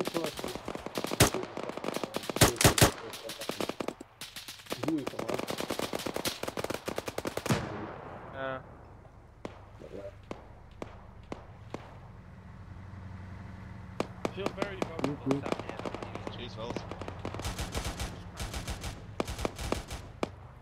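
Dense rapid gunfire from the ArmA 3 military video game: bursts of automatic and single shots pile up for several seconds, drop to a quieter stretch of sparse distant cracks, then return as scattered volleys near the end.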